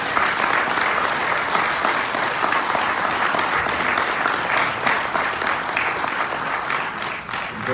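Audience at a lecture hall in Los Angeles breaks into sustained applause, dense steady clapping from a large crowd lasting several seconds, loud and even throughout.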